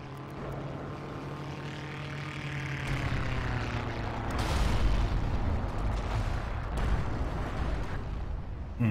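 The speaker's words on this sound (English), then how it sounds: "now my artillery is falling here as well" Artillery shells landing in the Forgotten Hope 2 multiplayer battle, a rolling series of heavy booms and rumbling blasts swelling midway over a steady droning aircraft engine, with no talk.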